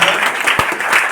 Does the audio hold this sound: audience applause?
yes